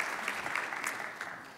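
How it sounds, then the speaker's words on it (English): A church congregation gives a round of applause, a steady wash of many hands clapping at a moderate, somewhat distant level with no voices over it. "Let's just praise the Lord by a round of applause for this trip that's coming up"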